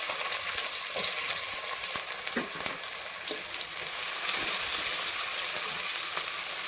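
Two chopped big onions frying in oil and ghee for a mushroom biryani, a steady close sizzle with a few faint stirring clinks, and no talking.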